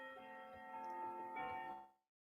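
A fancy clock ticks quietly indoors, its even tick-tock layered with sustained tonal ringing that fades out abruptly near the end; no voices are heard.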